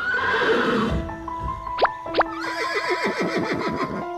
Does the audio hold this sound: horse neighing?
yes